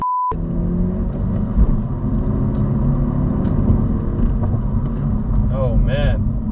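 A 2019 Honda Civic Si Coupe engine rumbles steadily from inside the cabin as the car is driven, with a brief spoken exclamation and a short chime near the end.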